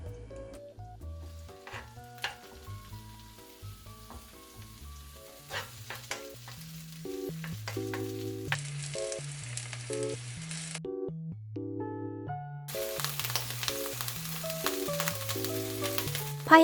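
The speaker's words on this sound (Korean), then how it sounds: "대파를 넣어 파기름을 내주세요." Large green onion (daepa) frying in oil over medium heat to make scallion oil, a steady soft sizzle that grows louder toward the end beneath tuneful background music.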